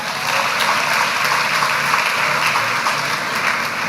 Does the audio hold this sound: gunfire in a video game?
no